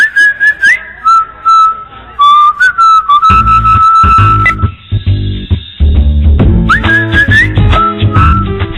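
A person whistles a cheerful, relieved tune in a software advert, a clear, loud melodic whistle that soon runs over a punchy backing music track, with no speech.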